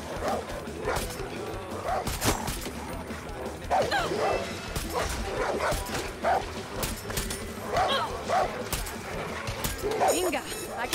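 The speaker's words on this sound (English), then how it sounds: "Why do I have to kill these dogs?" Dogs bark and yip repeatedly in the video game Far Cry 6, short sharp barks scattered over several seconds amid game noise, with a voice speaking underneath.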